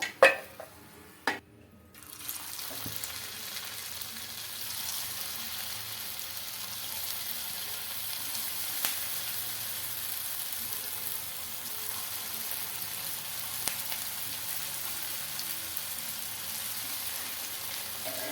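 Poha snacks frying in oil, a steady fine crackling sizzle that carries on throughout, opening with a couple of sharp knocks of a pan or utensil.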